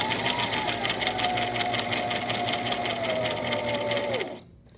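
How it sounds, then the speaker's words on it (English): Brother XR3774 sewing machine stitching through felt with a steady, loud, fast mechanical whirr that holds at a constant pace, then slows and stops near the end. "slowly press your pedal with your foot again, and we're gonna stitch all the way down to almost the"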